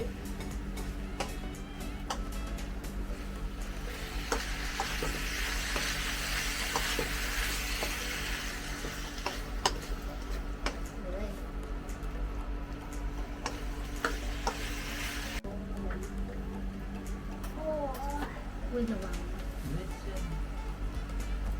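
Fatty pork rind sizzles steadily in hot oil for Thai crispy pork cracklings, a continuous faint crackle and hiss with scattered pops and light stirring clicks.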